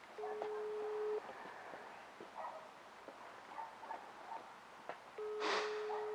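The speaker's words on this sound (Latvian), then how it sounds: "Zvana." A telephone ringback tone purrs in two long, steady beeps about a second each, separated by a quiet gap of faint room noise, heard during a phone call being placed in a Latvian school comedy skit.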